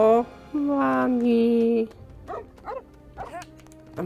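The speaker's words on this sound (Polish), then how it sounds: "A my tu mamy pieska?" A dog in the Lego Harry Potter and the Goblet of Fire video game, heard as a sustained whine-like tone followed by several short yips and barks, clear and close with no talk over it.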